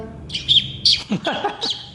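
A mimic's voice imitates bird calls during a Malayalam stage comedy act: a few bright, high whistled chirps and short sliding tweets in quick succession, close and fairly loud.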